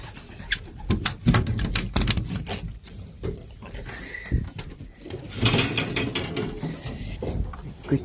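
Racing pigeons in a loft, with soft cooing and scattered wing flaps, perch clatter and shuffling close by, busy and irregular with no talk.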